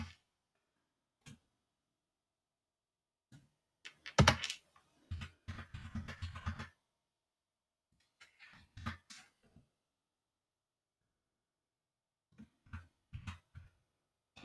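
Keys clatter on a computer keyboard while a field name is entered in a Salesforce custom object: short, close bursts of clicks separated by silent pauses.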